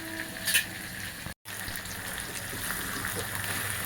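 Brinjal and onion fry in oil in a pan, giving a soft, steady sizzle that stays fairly quiet and cuts out briefly once.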